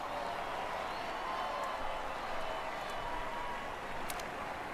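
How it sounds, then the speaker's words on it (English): Crowd noise from a Giro race in Pro Cycling Manager 25, turned down to a soft, even wash of cheering that holds steady and distant throughout, with a few faint sharp ticks. "can I actually hear me talk now, rather than just the crowd noise?"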